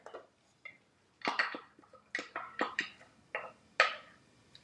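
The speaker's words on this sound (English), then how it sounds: "I'm going to drop in our half of an onion diced and 3 cloves of garlic minced." Diced onion and minced garlic tumble into a pot in a few close clattering bursts, with light clinks against the cookware separated by brief pauses.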